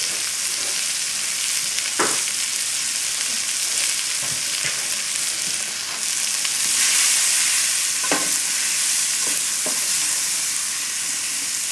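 Shrimp sizzle and fry in a hot pan, a steady bright hiss with a few scattered stirring scrapes and taps, fairly close and loud, with no voices.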